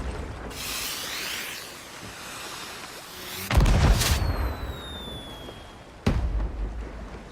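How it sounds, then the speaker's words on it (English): Fireworks going off in the pirate game Sea of Thieves: a fizzing launch, then two loud cracking bursts a few seconds apart, each followed by whistling, crackling sparks against a steady ambient background. "I love the fact that there are fireworks in this game."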